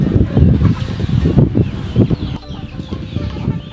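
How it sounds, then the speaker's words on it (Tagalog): Native chickens clucking as they are fed, a close, loud flock of overlapping clucks and squawks in a continuous burst, with no people talking. "magpapakain tayo sa ating mga native chicken"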